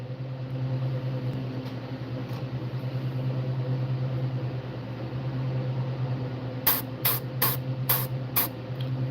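Airbrush spraying paint onto fishing baits in a koi scale pattern: a steady hiss of air with a low compressor hum, then five sharp bursts of spray near the end.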